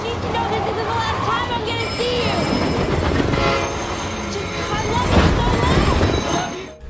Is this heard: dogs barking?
no